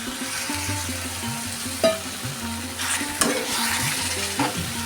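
Prawns and potatoes with spices stir-fry in a pan, with a continuous sizzle and low tonal hum underneath, broken by a few louder clacks and scrapes of a utensil against the pan.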